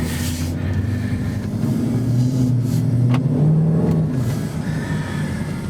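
The engine of a 2009 Dodge Charger R/T revs hard and loudly close by, its deep droning note climbing and falling in pitch for several seconds with no one talking.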